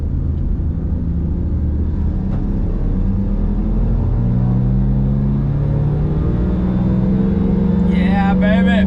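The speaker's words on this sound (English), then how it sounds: "This is how the car sounds when I do a pull from 2nd to 3rd gear." A Honda Civic, 2001–2005 generation, pulls hard from second into third gear, its engine droning loud and steady with rising pitch near the microphone, with a brief voice at the end.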